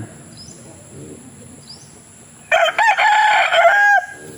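A rooster crows loudly once, a long harmonic call after a quiet stretch with faint insect chirps in the background.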